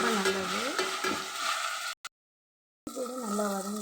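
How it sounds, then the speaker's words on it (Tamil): Small onions and ginger paste sauté in a pan with a steady, close sizzle and light stirring, broken by a brief silent gap midway before the frying resumes. "இஞ்சி பேஸ்ட் சேர்த்து நல்லா வதக்கிங்க."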